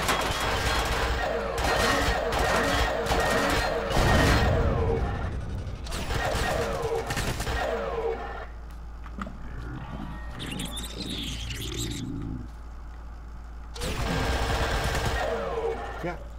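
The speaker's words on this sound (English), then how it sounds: "Let me just reload my laser minigun." Rapid sustained bursts of laser minigun fire in the sci-fi survival game Empyrion Galactic Survival, loud and dense, broken by short pauses and a quieter stretch of other effects before another long burst.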